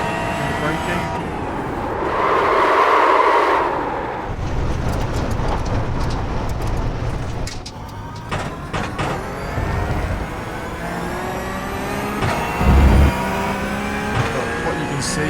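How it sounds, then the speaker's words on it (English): A race car in the iRacing sim locks its tyres under hard braking, with engine revs rising and falling through the lock-ups and squeals. A voice seems to talk over the car noise. "we're just going to induce some popping of the tyres as well, and the braking."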